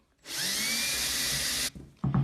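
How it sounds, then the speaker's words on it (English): A power drill bores into wood for a DIY jewelry organizer project, its high steady whine running for about a second and a half before cutting off, followed by brief clattering and knocks. "when you start drilling, the drill can walk a little bit"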